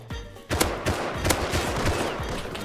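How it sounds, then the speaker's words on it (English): Python revolver gunshots in the survival game Rust, a rapid run of sharp, loud cracks fired one after another in quick succession over about two and a half seconds, with no talking. "I'm getting shot by Python."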